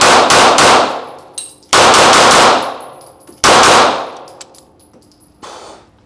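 Archon Type B pistol firing rapid close shots, three sharp bursts each ringing out with a metallic clang and fading echo, with a fainter shot near the end.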